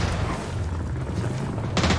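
Explosion in an online battle-royale shooter as a fence blows apart during a squad fight: a loud, dense blast with rumbling low end that continues throughout, then a sharp burst near the end.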